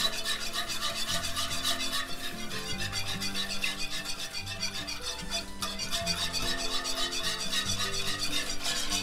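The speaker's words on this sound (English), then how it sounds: "Give it a good whisk" A roux is whisked with beef stock in a pan, producing a continuous rasping, scraping rhythm under background music.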